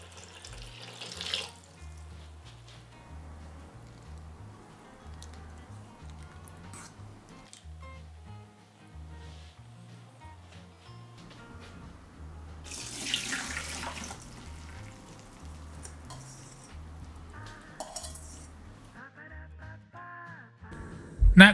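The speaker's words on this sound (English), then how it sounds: "I'm going to wash it with cold water and drain." Bitter melon being rinsed under cold running tap water at a kitchen sink, a steady faucet stream with splashing and a louder burst partway through.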